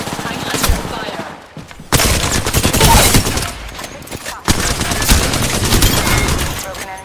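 Video game gunfire crackles in rapid bursts and machine-gun volleys, loud and close, broken by brief lulls, with voices talking at times.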